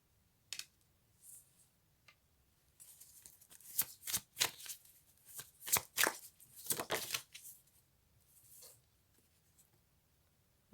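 Tarot-style cards shuffled by hand for a card reading: soft papery riffles and slides in a quiet room, with a cluster of quick crisp bursts in the middle and a few isolated taps around them.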